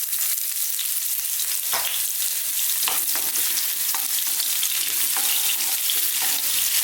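Garlic and ginger sizzle in hot oil in a pan for a vegetable stir fry, a loud constant hissing fry close up with a few soft stirring knocks against the pan and no voices.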